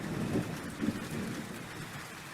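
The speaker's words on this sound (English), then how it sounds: "it really starts to pour down. Day turns into night, and they hear the first thunderstrike" Steady rain pouring down with low rumbling thunder beneath, a dense continuous hiss at moderate volume.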